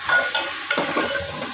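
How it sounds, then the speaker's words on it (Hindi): Chicken pieces frying in oil in a pan for a chicken salan, giving a steady close sizzle with a few soft stirring scrapes, no voices. "चिकन इसमें ऑयल में फ्राई करूँगी थोड़ी देर के लिए"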